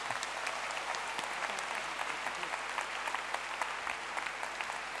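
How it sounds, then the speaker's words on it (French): Steady audience applause fills a political meeting at the Cirque d'Hiver after a speech ends, a dense, even patter of many hands clapping at moderate distance with no talk over it. "vous pouvez l'applaudir"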